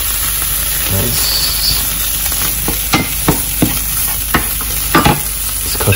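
Pork frying in a pan, a dense close sizzle with repeated clicking scrapes of a utensil stirring, over a steady background hum and a faint voice early on.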